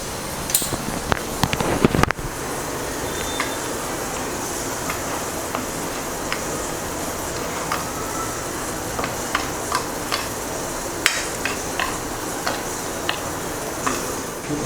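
A metal spoon scrapes and clinks in a small bowl, mixing chili powder into spices for a rawa tawa bombil fry, with quiet steady stirring, a louder clatter near the start and faint ticks after.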